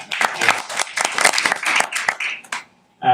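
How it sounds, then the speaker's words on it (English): An audience at a local short-film showcase applauds, a close burst of many hands clapping with an uneven, rippling rhythm that fades out to near silence before a voice begins. "Another round of applause for Arash."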